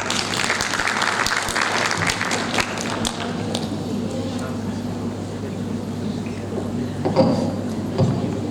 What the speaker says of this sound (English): we are allowing her to leave with a clap